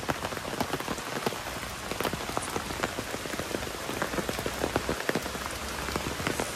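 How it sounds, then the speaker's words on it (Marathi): Heavy rain falling at Namo Garden Central Park in Thane, a continuous dense patter of drops on surfaces, loud and unbroken throughout, with no voices. "पूर्ण पावसाने वाट लावले"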